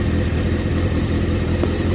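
A Honda CBR600 F3 motorcycle engine idling steadily after carburettor synchronisation and pilot screw adjustment, a continuous low even rumble heard up close with no voices.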